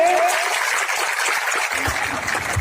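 An audience at an apprentice union gathering applauds honored officials: dense, continuous applause from a crowd at steady loudness, with a low rumble of background noise coming in toward the end.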